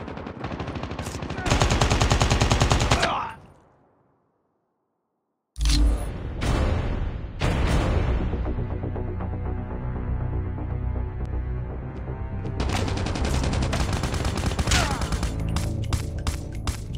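AK47 automatic gunfire from the mobile shooters PUBG Mobile and Call of Duty Mobile: a loud, close burst of rapid shots, a sudden gap of silence, then long sustained automatic fire with sharp individual cracks running to the end.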